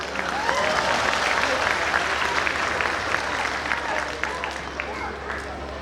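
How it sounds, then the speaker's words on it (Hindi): A poetry-gathering audience breaks into sustained applause, a thick wash of many hands clapping that holds steady throughout, with a few faint voices and calls mixed into the crowd. "कुछ तालियां शेष रह गई हो तो"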